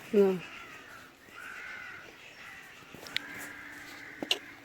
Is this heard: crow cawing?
yes